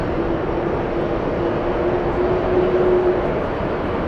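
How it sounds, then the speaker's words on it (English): A KLM airliner taxiing at JFK airport, a steady loud jet-engine roar with a droning whine held throughout, continuous and close. "We have the KLM flight taxiing"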